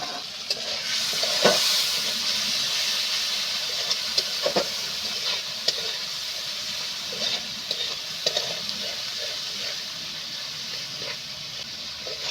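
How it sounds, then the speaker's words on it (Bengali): Spices sauté in hot oil for ghugni masala, a continuous bright sizzle punctuated by regular scraping strokes of a spatula, close and fairly loud with no voices. "ঢাকনাটা তুলে নিয়ে এবার আমি ভালো করে মশলাটা কষি নেব"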